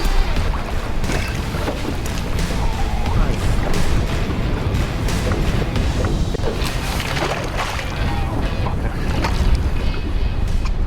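A small fishing boat runs over big waves on a Swedish lake, with steady loud wind and water roar and rushing spray throughout, without a break.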